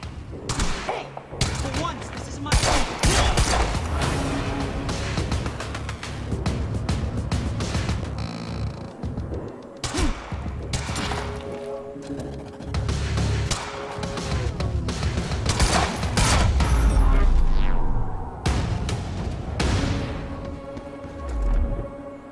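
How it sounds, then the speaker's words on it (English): Enemy soldiers' gunfire in the video game Quantum Break, with repeated bursts of shots and thuds in a dense, loud battle mix, layered with game music and characters talking. "Why the hell is Monarch firing at us?"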